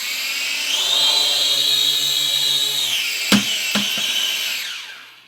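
Small RC camera drone flying nearby with a steady high-pitched propeller whine that swells and holds, then lands with two quick thumps before the buzz fades out.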